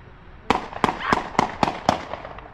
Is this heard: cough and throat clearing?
no